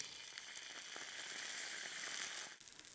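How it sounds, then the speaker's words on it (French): A very hot pan of browned chicken being deglazed, a steady loud sizzle and crackle of liquid hitting hot metal that holds for a few seconds before briefly dropping off. "Alors la poêle est très chaude. On va déglacer."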